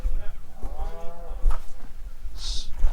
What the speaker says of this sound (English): Sounds like you got a hungry cow.